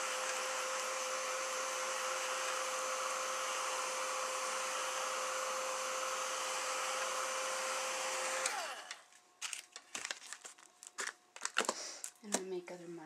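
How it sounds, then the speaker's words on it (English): A hair dryer blows steadily with a loud, constant whoosh and hum, then cuts off, followed by scattered clicks and rustling. "I'm going to use my dryer."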